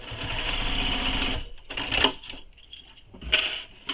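Sewing machine stitching a quiver sling panel with D-rings, a fast whirring run of stitches, then short stop-start bursts with small metallic clicks, close and fairly quiet.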